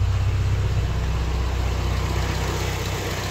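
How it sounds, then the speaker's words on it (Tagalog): Mitsubishi Lancer GLXi engine idling at close range, a smooth, low, evenly pulsing hum that stays steady and quiet throughout, with no other sounds. "Ayan, tahimik na makina, suabe."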